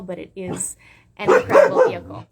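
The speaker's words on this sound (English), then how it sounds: "Sorry about my dogs. They might go crazy for a second." Dogs barking at a house as a neighbor comes home, a few sharp barks mixed in with someone talking, the barking and speech overlapping in short bursts.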